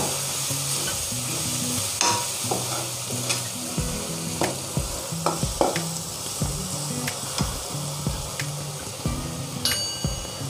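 Coriander powder and garam masala sizzle steadily in hot oil while a spoon stirs and scrapes the pan in repeated close strokes, with no talking.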